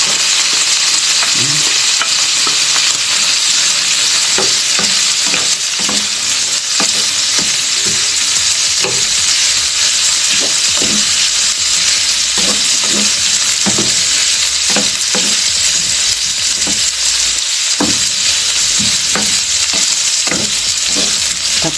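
Chopped onion sizzling steadily in a hot pan while being stirred, with a loud continuous fry and repeated scraping strokes of a utensil, for pancit bam-i.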